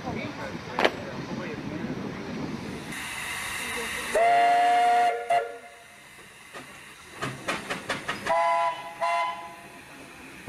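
A steam traction engine under a good head of steam leads a funeral procession through Bolton, with hissing steam, a long whistle blast and several short toots over crowd noise and scattered voices.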